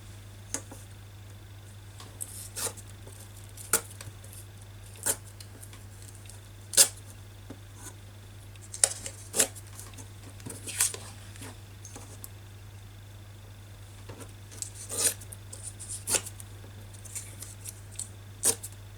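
Scissors snip through paper strips being trimmed for craft tags, producing sharp, close, isolated cuts spaced irregularly over a quiet room with a steady low hum.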